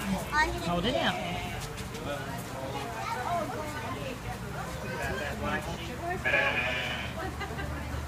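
Goats in a petting zoo pen bleat in short calls under frequent talking and children's voices, with a pig also nearby.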